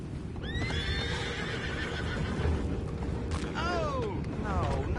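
Horses whinny and neigh in the Red Dead Redemption 2 video game, several rising and falling calls over a dense bed of hooves and background bustle, with a voice talking between them.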